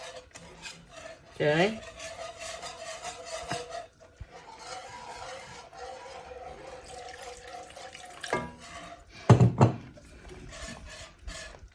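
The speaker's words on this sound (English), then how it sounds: "You just keep stirring to get the lumps out." A spoon stirs roux into enchilada sauce in a pot, making soft repeated scraping and sloshing with a few louder knocks against the pot; a voice speaks briefly over it.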